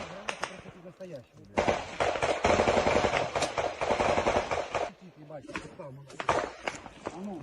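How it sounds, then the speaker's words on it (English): Bursts of rapid automatic gunfire and single shots in a firefight between Russian and Ukrainian forces, loud and sustained, with voices talking between volleys. "It sounds as though it may be Russian forces firing at the Ukrainians."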